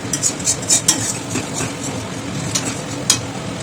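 Butter chicken masala with Kashmiri chili being stirred and fried in a pan, a steady low sizzle with repeated scraping strokes of the spoon, fairly close, with no talking.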